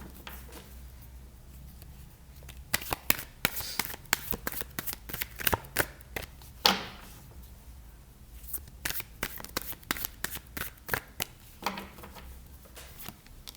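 Tarot cards are shuffled and drawn by hand in a quiet room, a quick run of crisp riffling snaps and flicks, close and clear with brief pauses between bursts and no talking.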